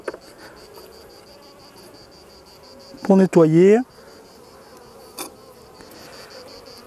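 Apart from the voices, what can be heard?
honeybees buzzing around an opened beehive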